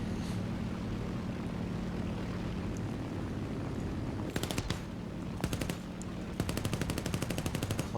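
Aircraft engine drone runs steadily throughout a War Thunder match in Roblox, broken by rapid bursts of machine-gun fire in the second half, several short volleys of loud, crackling automatic shots.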